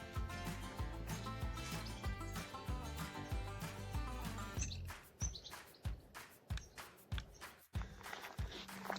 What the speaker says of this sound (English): Little goldfinch. You can already hear them.